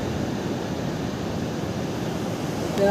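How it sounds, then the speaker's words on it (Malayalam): Strong sea waves in a rough monsoon-season sea crash against the shore as a continuous loud roar of surf, with wind buffeting the microphone and a brief swell at the end. "കടൽ അതിശക്തമായിട്ടുള്ള തിരമാലാണ് അടിച്ചുകൊണ്ടിരിക്കുന്നത്"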